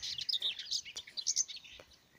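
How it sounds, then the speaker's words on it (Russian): Small birds chirp in quick, bright bursts near a riverbank fishing spot, a flurry of overlapping high tweets and calls, fairly close and clear against a quiet background. "все птички эти туда-сюда зикают."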